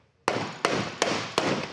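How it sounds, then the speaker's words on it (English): Four sharp, loud metal hammer strikes land at a steady rhythm on an engine's camshaft cover plate to cut end play, each blow ringing briefly before the next, with no talk. "we need to hammer in on the plate."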